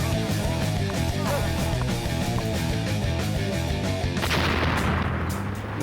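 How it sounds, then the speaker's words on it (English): A grenade explodes in a game, a loud rolling blast with crackling gunfire-like bursts and a sharper burst near the end, amid steady background noise. "Fisto's plan is to throw the grenade over the cliff as he jumps in order to ride the updraft created by the explosion."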